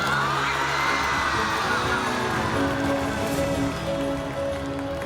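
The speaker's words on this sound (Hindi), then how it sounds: "जोरदार शोर और हल्ला के साथ ताली बजा दीजिए उसके लिए" Crowd at a school award function for a student who came second in the high school board exams, a dense continuous roar of noise and cheering throughout, with shouts and whoops mixed in.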